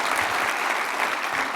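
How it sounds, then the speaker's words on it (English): Keynote audience at a commerce conference applauding steadily, a dense continuous wash of many hands clapping with no voices over it. "Can I have a huge round of applause and just a big thank you"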